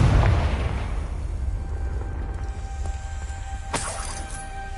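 A Confringo blasting spell explodes in Hogwarts Legacy, a loud low boom at the start that decays into a rumbling tail, followed later by a sharper crackling burst.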